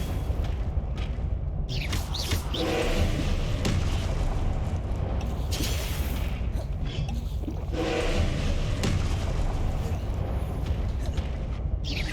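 Confringo blasting spell from Hogwarts Legacy bursts in dull booming explosions during a boss fight, several loud blasts spaced over a constant noisy roar of game sound.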